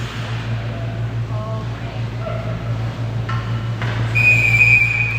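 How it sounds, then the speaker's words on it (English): A referee's whistle at a girls' ice hockey game gives a sharp shrill blast near the end, over a steady arena hum and a faint crowd. "Whistle goes."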